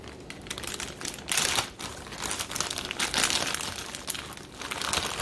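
A plastic bag packed with art supplies such as pigments and glitter crinkles and rustles while being unpacked, in irregular close-up bursts with a few louder crackles.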